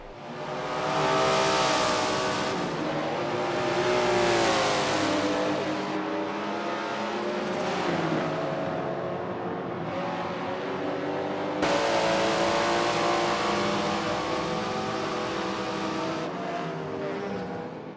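Race cars of different classes in a Forza racing game roar past one after another, engines climbing and falling through the gears with loud, sweeping pitch changes and occasional tire squeal, with no voices.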